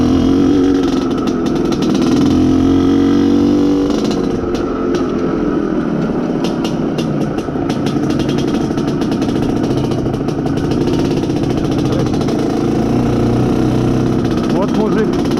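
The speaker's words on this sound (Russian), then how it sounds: "Я вот на мотоцикле езжу, кайфую." An Izh Planeta Sport motorcycle with a freshly rebuilt engine being run in, its loud two-stroke drone rising and settling while riding, steady and close throughout with someone talking over it.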